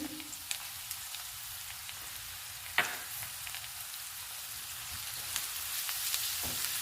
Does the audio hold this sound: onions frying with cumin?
yes